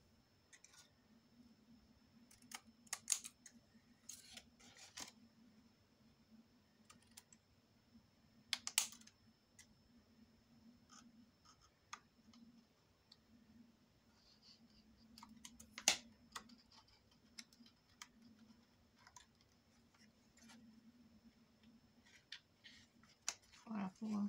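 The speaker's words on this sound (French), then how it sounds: "Je coupe le surplus." Scissors snip off excess paper while a paper folio is being made, with scattered short cutting and clicking sounds spread across a quiet room under soft speech.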